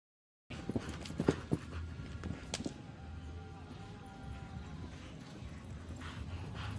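A horse's hooves thud and clip-clop across a show jumping ring at an international World Cup jumping event, a few sharp louder hoofbeats near the start and then softer, steady footfalls under a faint arena ambience.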